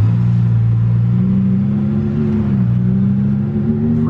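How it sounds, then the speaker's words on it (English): A boosted Lamborghini Huracan engine drones loud and steady from inside the cabin, holding a strong low pitch that shifts slightly as the car accelerates through traffic. "But first drive in the Lamborghini Huracan."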